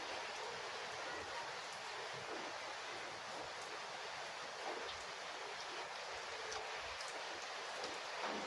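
Rain falls steadily outside in a rural province setting, a dense, even hiss of drops on surfaces with faint patters, continuous and moderately distant throughout.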